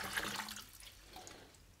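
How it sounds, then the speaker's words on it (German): Water trickles and drips out of the base of a houseplant pot, a soft, steady splashing with a few brighter drips near the start that fade to a quiet trickle, with no talking. "Das Wasser kommt jetzt, wie gesagt, raus."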